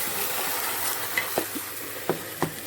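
An omelette frying in a pan, with a steady soft sizzle under a few sharp scrape and tap transients as it is turned over, close and alone without voices.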